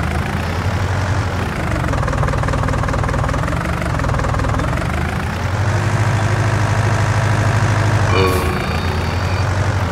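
A small white and orange tractor in a farming video game on PC, its engine a loud, continuous low chugging with a knocking vibration, shifting pitch slightly as it works, with a brief higher whine near the end.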